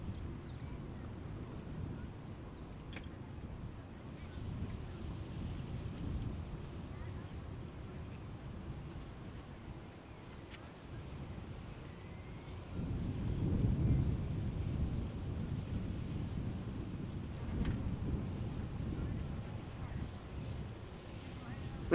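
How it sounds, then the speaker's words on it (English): A landing airliner at Schiphol's Polderbaan runway roars on reverse thrust from only three engines, with one reverser not deploying. The broad distant rumble goes on throughout and swells louder about halfway through. "even more impressive if this noise came from just 3 engines reversing"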